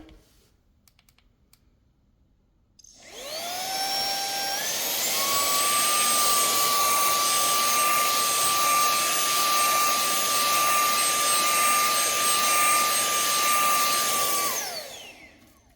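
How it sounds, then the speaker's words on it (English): A vacuum cleaner starts up and runs steadily with a loud whine that rises in pitch, then winds down as it is switched off. "We're going to vacuum."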